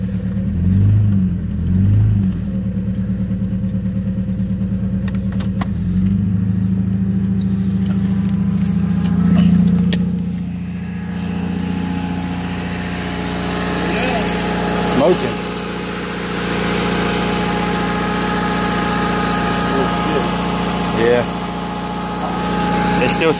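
A Honda car engine idling and revving as the car drives out of a ditch, loud and close, with a steady mid-pitched rumble and vibration that swells and eases, while people talk over it.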